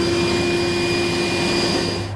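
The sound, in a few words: vacuum cleaner sucking up metal shavings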